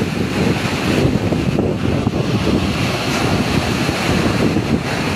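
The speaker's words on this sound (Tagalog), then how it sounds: "Pati yung hangin ang lakas." Strong typhoon winds from Typhoon Carina in Mogpog, Marinduque, Philippines, roar against the microphone at high tide, with big waves crashing beneath in a dense, loud, continuous rush.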